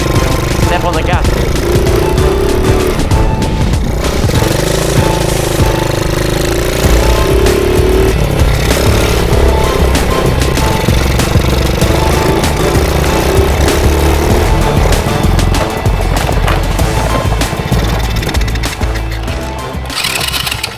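Salvaged roadside ATV with a leaking carburetor roars loudly on the throttle, its engine note rising and falling in rough, rattling revs that fill the whole stretch.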